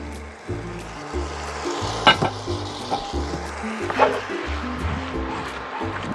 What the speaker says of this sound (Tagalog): let's toss the cooked pasta